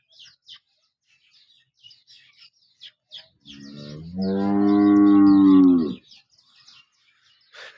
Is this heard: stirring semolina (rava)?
no